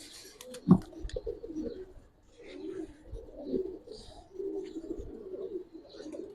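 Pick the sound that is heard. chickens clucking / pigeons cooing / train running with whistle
pigeons cooing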